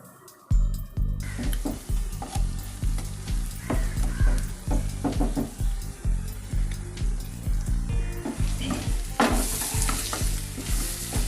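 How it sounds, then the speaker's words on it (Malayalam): Food fries and sizzles loudly in hot oil in a pan while being stirred, with continuous crackling hiss and repeated scraping, clattering strokes of the spoon throughout. "അതല്ല ഇങ്ങനെ നമുക്ക് എണ്ണയിലോട്ടും മുരിച്ച് കൊടുത്താൽ കുറച്ചുകൂടെ എളുപ്പമായിട്ട് ഇതാണ് മുരിഞ്ഞ് കിട്ടും."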